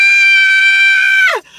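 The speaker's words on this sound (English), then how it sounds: "Are you screaming," A person lets out one loud, sustained high scream that holds steady for over a second before cracking and dropping away, close to the microphone and alone.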